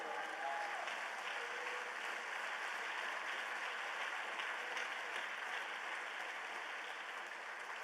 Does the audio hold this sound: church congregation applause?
yes